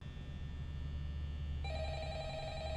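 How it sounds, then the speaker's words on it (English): A telephone rings in a video game, a steady electronic tone that sharpens into a brighter ringing partway through, close and moderately loud, with no talking over it. "Okay, phone. It's calling me. Someone's on the phone."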